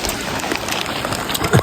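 Dense, close patter of rain hitting a surface, a continuous hiss with scattered drops, ending in a brief low thump.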